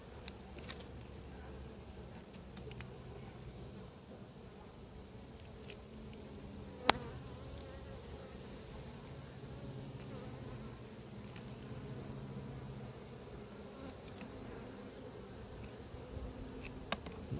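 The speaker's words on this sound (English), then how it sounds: "there's not quite so many bees in here as I first imagined" Honey bees hum steadily inside an opened late-season apiary hive during colony uniting, a low continuous drone with faint clicks and one sharp tap partway through.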